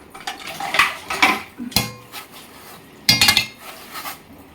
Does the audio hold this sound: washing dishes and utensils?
yes